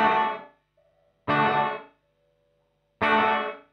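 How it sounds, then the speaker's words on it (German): Electric guitar run through a noise gate effect: three loud strummed chords spaced apart, each cut off abruptly into near silence instead of ringing out, with only a faint residual hum between them. "wie so ein Noise Gate. Hört ihr?"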